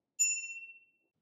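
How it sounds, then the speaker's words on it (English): A single bright ding from the handlebar bell of a Velotric Discover 2 e-bike, struck once and ringing clearly before fading out over about half a second in a quiet setting. "It also comes with a bell."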